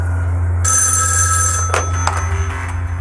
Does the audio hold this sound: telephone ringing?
yes